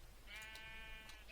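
A sheep in the Minecraft video game gives a single clear, wavering bleat lasting about a second, close and alone with no other sounds.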